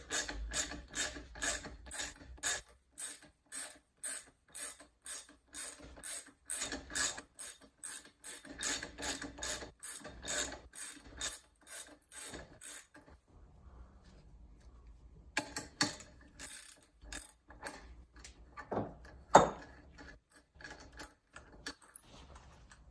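A ratchet wrench with a 24mm socket turning on a RockShox Pike RC bicycle suspension fork during a service; rapid regular close clicking bursts, then a pause and a few scattered clicks and clunks.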